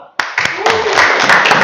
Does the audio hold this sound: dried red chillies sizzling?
no